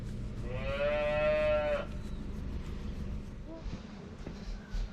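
A cow on a farm lets out one long, loud, close moo lasting over a second, followed by quieter farmyard background noise with faint shuffling.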